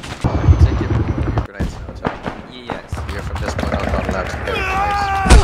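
Gunfire in the military shooter Arma 3 during a night operation, with thumping shots and bursts scattered among several voices talking over radio, the shots fairly close and mixed with movement sounds.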